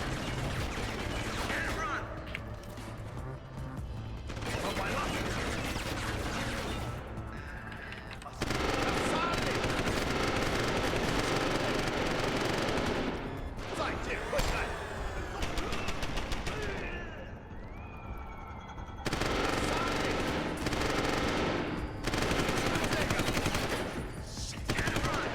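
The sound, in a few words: turret gunfire in video game Deus Ex: Human Revolution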